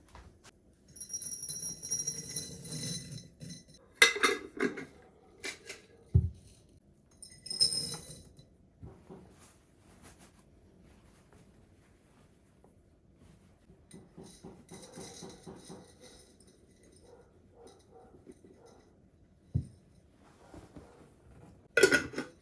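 Glass pantry jars and their lids clink and knock in scattered bursts while being filled with homemade pasta and treats, close and fairly quiet with pauses between handling sounds.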